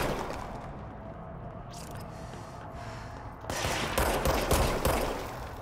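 Enemy gunfire in the game Control, a dense run of shots under steady background rumble, growing louder and heavier toward the end.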